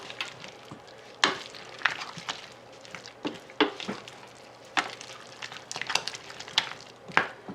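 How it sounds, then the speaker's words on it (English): Chicken being stirred and folded into a homemade pot pie filling in a pot gives a soft sizzle under repeated scraping, clattering spoon strokes at an irregular rhythm. "Dump your chicken in. Give it a stir, or stir and fold."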